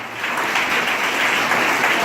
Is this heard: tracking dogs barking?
no